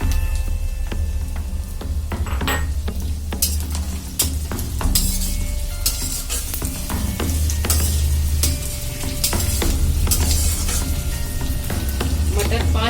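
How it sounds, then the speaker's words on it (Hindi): Peas sizzle in a pan of browned onions for Indian-style macaroni and get stirred, a steady close frying hiss broken by repeated clinks and scrapes of a spoon against the pan. "अब इसमें हम मटर ऐड करेंगे।"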